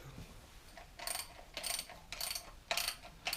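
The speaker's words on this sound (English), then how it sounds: "Now we'll tighten the seal retainer to the block." A ratchet wrench tightens the rear main seal retainer onto the block of a Farmall Super M tractor engine, clicking in about five quick, close bursts separated by short pauses, with no talking.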